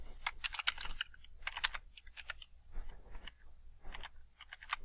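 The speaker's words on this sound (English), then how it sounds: "I don't even know what I'm typing." Fast bursts of typing on a computer keyboard, close and crisp, with clusters of key clicks separated by short pauses, no voices over them.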